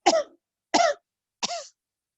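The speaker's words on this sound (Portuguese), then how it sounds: "E expira em 3 tossidas." Three deliberate coughs used as the exhale in a breathing exercise, evenly spaced with short silences between, close and clear with no other sound.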